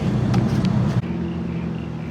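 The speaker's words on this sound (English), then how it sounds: "you have to do a burnout" Holden VY SS Ute doing a burnout, a steady loud engine drone with a sharp dip near the midpoint before the roar carries on, heavy low rumble throughout.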